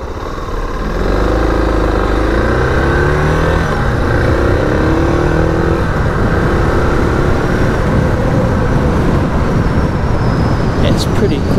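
Suzuki DR650 motorcycle engine on a test ride, a steady loud drone with rising and falling engine tones and heavy wind rumble throughout, the revs climbing early on.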